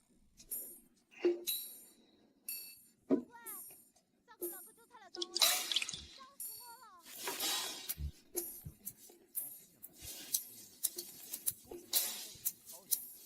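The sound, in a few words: water dripping while preparing ink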